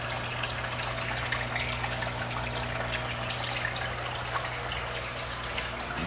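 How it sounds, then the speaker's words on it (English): Water draining and overflowing from a fish tank being cleaned of string algae, a steady close trickling and gushing flow with a low pump-like hum underneath, no voices. "I'm already started draining the water up, overflowing."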